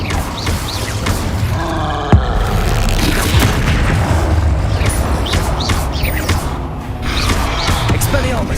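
Dense, booming fire-spell blasts in Hogwarts Legacy, cast as an Incendio attack amid a continuous roar of combat effects, with shouted incantations over the top.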